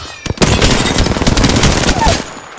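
Video game gunfire in an aggressive online team match, loud dense bursts of rapid automatic shots rattling almost continuously, close and dominant with little else audible.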